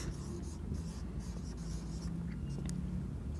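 Chalk or marker scratching steadily across a board during a class 4 maths lesson on common factors, a continuous close scraping texture with no talk over it.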